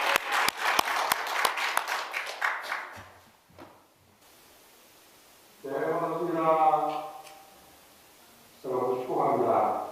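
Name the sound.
audience applause welcoming the lecturer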